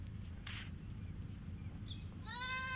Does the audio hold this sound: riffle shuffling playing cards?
no